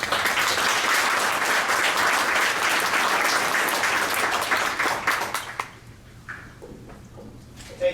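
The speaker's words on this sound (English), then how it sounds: "please give David a huge applause for his continued contribution to our work and success" An audience at a government contracting industry event bursts into sustained applause for about five seconds, then the clapping thins to a few scattered claps and fades into a quiet room.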